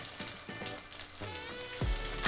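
Fish coated in tapioca and rice flour frying in hot oil, a steady crackling sizzle that swells loudly at the end as the batch drops in.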